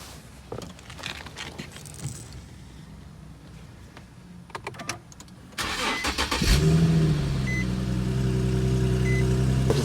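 A 2008-2013 Infiniti G37S coupe engine cranks and fires after a few seconds of clicks and handling noise, then settles into a steady, close idle hum that continues to the end, with a faint beep and no talk.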